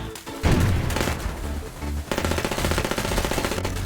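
Rapid automatic gunfire from the mobile battlefield-style shooter FireFront, loud bursts of machine-gun fire with a heavy boom near the start, then a steady rattling stream of shots.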